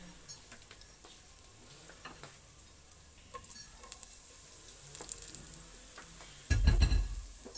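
Ginger, garlic and onion frying in a pot as the base for chicken stew, a faint steady sizzle with light stirring scrapes, ending in a louder burst of stirring and clatter.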